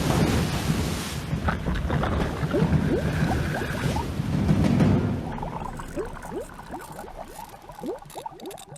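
Four tonnes of water dump from a huge bucket onto a car, a loud roaring crash and rushing splash that fades into trickling, dripping runoff and scattered droplets; no talking.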